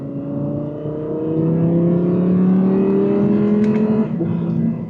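An Audi R8 V10 Performance engine revs steadily upward, its exhaust note growing louder and rising in pitch with a sustained harmonic drone, then easing slightly near the end, heard up close from inside the car.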